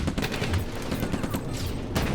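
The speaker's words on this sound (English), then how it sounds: "That was definitely some sort of anti-air cannon." Anti-air cannon fire in a Stalingrad battle video game: a dense, continuous rattle of rapid shots with heavy low-end thumps, loud and close, lasting the whole moment.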